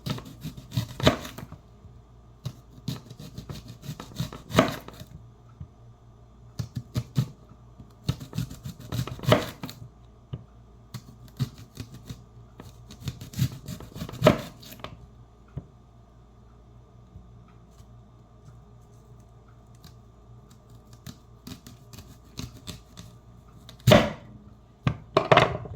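A knife thinly slicing yellow and white onions on a board, heard as clustered bursts of crisp cutting taps separated by quiet pauses.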